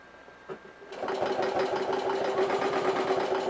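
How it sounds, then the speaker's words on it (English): A sewing machine stitches across purse fabric, starting after a brief pause and then running in a fast, steady mechanical whir of needle strokes, close and moderately loud, with no talking. "We're going to sew it."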